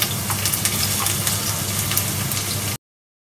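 Onion, pepper and garlic sizzle in a pan with a steady, dense crackle and occasional pops for under three seconds, then the sound cuts to silence.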